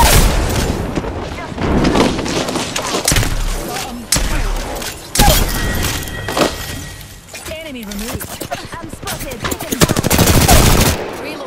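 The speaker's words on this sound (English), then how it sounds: "Listen up, I'm getting shot at." Gunfire in the battle-royale shooter Apex Legends, loud bursts of automatic fire mixed with impacts, booms and shattering hits, running continuously and dense throughout.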